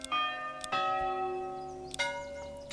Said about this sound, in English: Church bell sound.